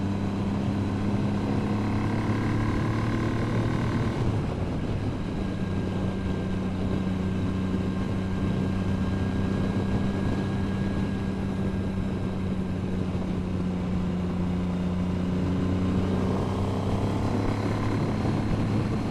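A Triumph 900 triple-cylinder motorcycle engine runs steadily, a smooth, continuous droning hum with a slight shift in tone partway through and no talking.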